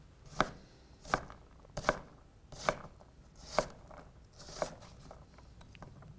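A knife dices an onion on a cutting board with six distinct, evenly spaced chops, each a crisp thud. They are close and fairly quiet, with no talk.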